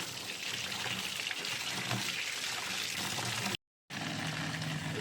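Water runs steadily from a tap as leaves are washed, a close continuous splashing rush with a brief cut of silence near the end.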